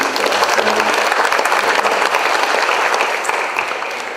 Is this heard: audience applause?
yes